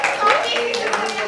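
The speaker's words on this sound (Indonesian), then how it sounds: "Tepuk tangan dulu untuk Desi." Classroom clapping for a student receiving a first-prize gift, a short burst of many hands at close range, with a voice talking over it.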